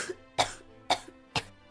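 A woman coughs up blood in three harsh, wet bursts spaced about half a second apart, each loud and close with a short breathy tail, alone with no talk.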